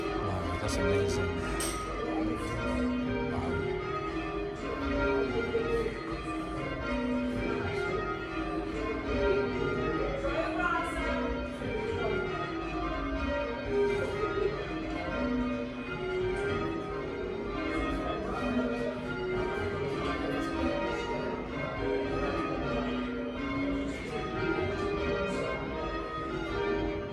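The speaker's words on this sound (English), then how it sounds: "They just started ringing the bells." Church bells peal continuously for nearly half a minute, their overlapping strokes giving a full, steady ringing with a distant quality, while people talk faintly in the background.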